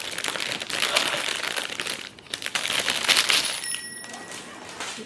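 Crinkly packaging being torn and pulled open by hand, a sequence of rustling, crackling bursts with a short pause partway through, close and moderately loud, with no speech.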